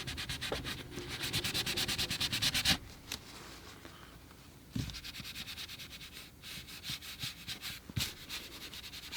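Watercolour paint scrubbed onto paper with a paintbrush: a steady, close dry rubbing that pauses briefly and resumes in shorter strokes, with no talking.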